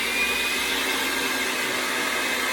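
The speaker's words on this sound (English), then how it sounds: "Now we're going to mix together the peanut butter and the sugar at medium speed." An electric mixer churns peanut butter and sugar at medium speed, a steady broadband whirring hum that stays constant and fairly loud throughout, with no voices.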